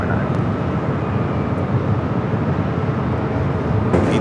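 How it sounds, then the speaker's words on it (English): An ATR turboprop airliner flies over at Los Angeles International Airport, a steady broadband engine rumble holding at an even level throughout with no voices. "ATR is flying over"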